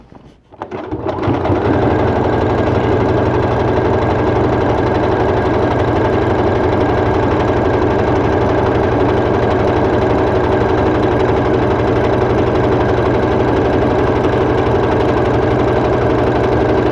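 A sewing machine runs without pause, stitching down an appliqué on a Black Panther-inspired Henley T-shirt. The motor hums loudly and close after a brief quiet start, with a rapid, even needle chatter throughout.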